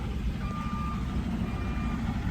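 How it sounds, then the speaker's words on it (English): A big truck pulls into a parking lot nearby, its reversing alarm beeping steadily over a heavy, continuous engine rumble, with no talk. "this big truck just pulled in next to me"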